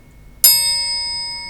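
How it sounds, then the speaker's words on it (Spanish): A single strike on a metal triangle rings out with a bright, close attack, then a pure, shimmering tone that slowly fades. "Y luego tenemos el triángulo, que también puede recordarnos sonidos suaves, periódicos, de cierto bienestar"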